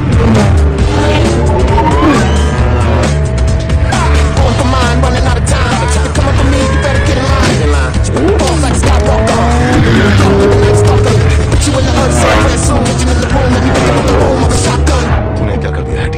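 A car in an action chase scene drives fast with its tires squealing and skidding. The roaring engine and screeching rubber stay loud and continuous throughout, mixed with dramatic background music.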